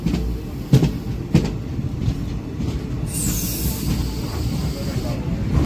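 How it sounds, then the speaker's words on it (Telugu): MEMU passenger train on the Macherla–Vijayawada line running past with a steady rumble and hiss of wheels on rails, brief clanks near the start and a faint squeal partway through. "మాచర్ల విజయవాడ ప్యాసింజర్ ట్రైన్ వెళ్ళిపోతుంది, మెమో ట్రైన్"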